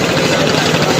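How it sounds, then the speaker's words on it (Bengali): A generator runs during a power cut in Dhaka, giving a loud, steady, unbroken engine drone with a rough low rumble that fills the whole moment. "জেনারেটর চলতেছে, কারেন্ট নাই"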